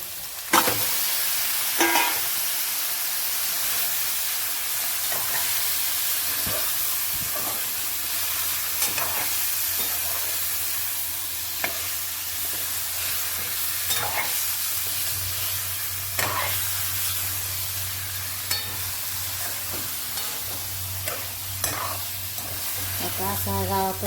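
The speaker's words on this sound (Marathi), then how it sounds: "तर आता आपण चिकन टाकून घेऊ" Chicken frying in a pan with ginger and garlic, cooked village style, gives off a steady close hiss of sizzling, with scattered clicks and scrapes from stirring and a low hum underneath.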